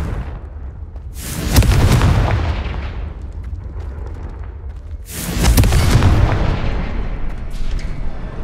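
A Confringo fire spell explodes in the Hogwarts Legacy video game, twice, roughly four seconds apart, each blast a loud, broad boom with a rumbling tail that lingers. No one speaks.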